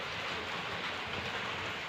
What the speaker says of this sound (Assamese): এয়া চাক বতাহ বৰষুণ তো ঠাণ্ডাও লাগি আছে অলপ